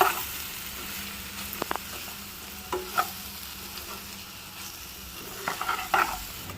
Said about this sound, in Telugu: ఇప్పుడు నెత్తలు కూడా బాగా కలిసేలాగా మొత్తం ఒకసారి కలుపుకోవాలండి